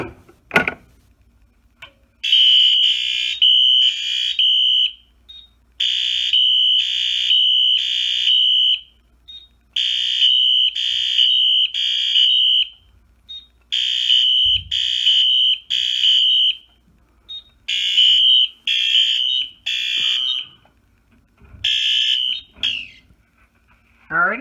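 A Grinnell RMS 1T fire alarm pull station sets off a loud electronic alarm: bursts of piercing high tones in a repeating pattern, with a mechanical clack at the start and brief gaps between cycles.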